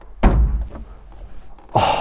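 A light door on a Ferrari SP1 hypercar swings shut with a loud, close thud, followed by a quieter pause and a burst of rustling movement at the end.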